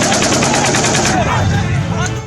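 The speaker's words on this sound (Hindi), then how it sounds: "बंदूकों की तड़तड़ाहट और खौफ से भर देने वाली रॉकेट की उड़ान" Loud, close automatic gunfire from Israel-Gaza war footage: rapid, evenly spaced bursts crackle for about a second, then dense, rumbling battle noise continues.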